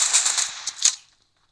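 A short burst of rapid gunfire from the PUBG video game, several quick cracks fading out in about a second, heard alone.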